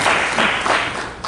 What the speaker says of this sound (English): we deserve a round of applause as Parliament.